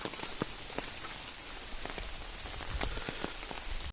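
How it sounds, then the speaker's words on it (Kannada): Rain falling outdoors in a green, sunny countryside, a steady dense patter of drops on surfaces with scattered sharper taps, even and moderately close throughout. "ಬಿಸಿಲು ಇದೆ ಹಾಗೆ ಮಳೆನೂ ಇದೆ."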